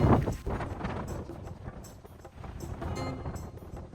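Wind buffeting a microphone outdoors, a steady low rumble with gusty swells and a few faint higher noises on top.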